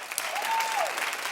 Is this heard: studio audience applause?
yes